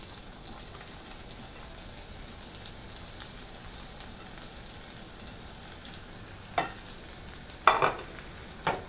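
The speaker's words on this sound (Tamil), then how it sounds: "வெங்காயம் வந்து நல்லா ஒரு 2 நிமிஷம் வதங்கட்டும்" Soft, steady sizzling of onions sautéing in a pan for mustard greens stir-fry, with a few louder clinks and scrapes of a utensil stirring near the end.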